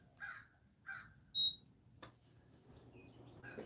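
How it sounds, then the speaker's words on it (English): A large bird that sounds like a vulture calls outside a window with two harsh, crow-like caws. The calls are muffled and moderately distant, followed by a short sharp beep and faint room noise. "Sounds like a vulture outside, doesn't it?"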